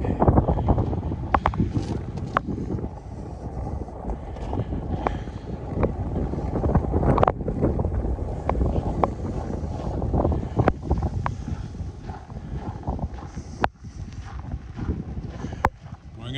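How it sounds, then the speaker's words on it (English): Strong blizzard wind roars steadily across the microphone during a walk through Regina in November, a dense low rumbling buffet with gusty surges and scattered thumps of footsteps and clothing throughout. "Going up this way again so I can quit walking directly into the wind."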